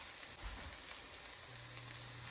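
Onions frying in a pan for dosa filling, a faint steady sizzle with a soft low hum joining partway through.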